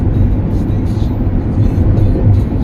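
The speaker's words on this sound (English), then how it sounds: "It probably vibrates more than that, Meg. Yeah. It's very loud." A loud, vibrating car driving in California traffic, a heavy steady low rumble of engine and road noise that fills the cabin throughout.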